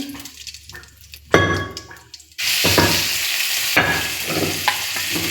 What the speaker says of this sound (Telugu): మనం ఇప్పుడు మిక్సీ పట్టుకున్నాం కదా పేస్ట్ ఆ పేస్ట్ యాడ్ చేస్తానండి